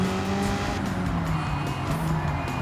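Race cars in the closing lap of the Battle of the V's at Le Mans, a steady loud engine drone with tire squeal and skidding, one car's pitch sliding downward as it passes, with no voices.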